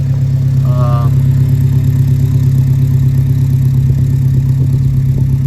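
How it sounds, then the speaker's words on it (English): A 1973 Alfa Romeo GTV with a rear muffler delete idles after a cold start, its exhaust giving a loud, steady, even rumble close by, with a brief voice near the start. "And listen to that magnificent exhaust."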